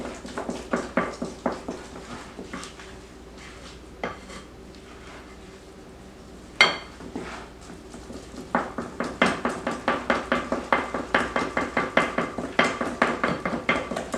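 Muffin batter mixed by hand in a bowl: a steady run of quick, rhythmic clinks and scrapes of a utensil against the bowl, pausing briefly midway and then resuming faster and denser.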